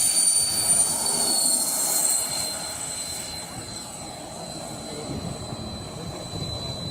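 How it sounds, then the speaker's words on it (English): A 120 mm electric ducted fan model jet passes overhead at the Schwandorf EDF meeting, its high, thin turbine-like whine fading a little as it moves away, then swelling again. "it's an EDF, and it's at the Schwandorf EDF meeting"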